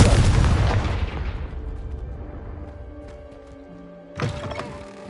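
A fire spell explosion in Hogwarts Legacy: a big booming blast with a long rumbling, crackling decay fading over several seconds, then a second sharp burst near the end.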